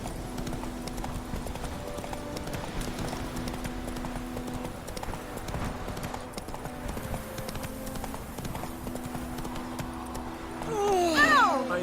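Roach the horse's hooves clip-clop steadily at a walk in The Witcher 3 on PS4, a continuous rhythmic patter over low ambient music, with a brief rising whinny-like sound near the end.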